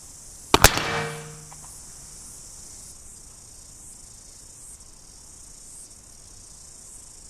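A CVA muzzleloading rifle loaded with homemade black powder fires a single loud outdoor shot, a sharp crack followed by a brief echoing decay, then insect chirping fills the quiet afterward.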